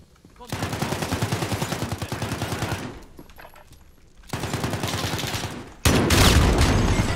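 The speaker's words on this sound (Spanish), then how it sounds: "¡Uy, una escopeta!" Shotgun fire in Call of Duty Modern Warfare gameplay: two long bursts of dense, rapid, close gunfire separated by a short quieter gap, then a loud heavy blast near the end.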